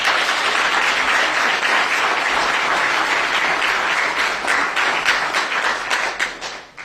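An audience at an NAACP town hall gives a church and its pastor a round of applause: steady, loud, full clapping from many people that holds for several seconds, then tapers off at the end.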